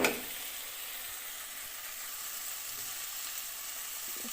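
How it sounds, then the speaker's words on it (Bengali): Rice fries in a pan for biryani, toasted until crisp, giving a soft, steady sizzle throughout after a brief clatter at the start; no voices. "চাল ভাজা হয়ে গেলে বোঝাই যায়।"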